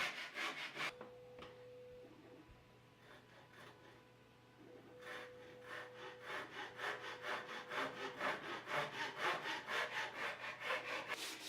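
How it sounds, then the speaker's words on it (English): Rhythmic back-and-forth hand sawing through a wood laminate layer on a lamp form, close by. The strokes come quicker and louder toward the end, over a faint steady hum. "Here I'm trimming the third layer a little"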